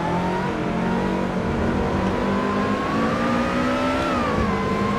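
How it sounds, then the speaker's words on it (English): Car engine in Assetto Corsa, a sim racing car likened to a giant super-powered go-kart, holding a loud steady drone with rising and shifting pitch as it revs, close and continuous throughout with no talk. "I am driving a giant super-powered go-kart"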